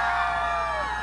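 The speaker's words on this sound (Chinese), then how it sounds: "来，掌声跟尖叫" A school concert crowd at a charity pop-arts evening gala at an all-girls high school, a loud, sustained wall of high-pitched screaming and cheering from many voices close by, without pause.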